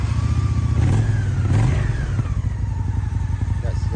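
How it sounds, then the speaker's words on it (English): A Honda Shadow ACE (American Classic Edition) motorcycle engine starts and idles, a close, steady low rumble with a couple of brief revs early on. "Let's start the bike first."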